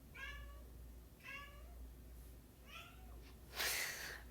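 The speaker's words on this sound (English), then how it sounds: "I hear meowing." A cat meows three times in a room, the calls clear but fairly faint and spaced about a second apart, followed by a brief rustling noise.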